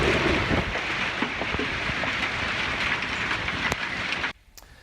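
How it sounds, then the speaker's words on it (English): Torrential downpour with gusty winds turning to hail near Loop 101 in Guadalupe, Arizona: a loud, dense, steady roar of rain and wind with scattered sharp impacts, cutting off abruptly near the end. "Torrential downpour and surprise as the heavy rains and gusty winds then turned to hail."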